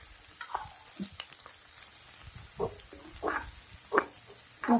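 Sesame seeds, carrot, chili, peas, ginger and garlic fry in hot oil for a healthy snack, giving a soft steady sizzle with scattered louder pops and crackles, close by with no talking.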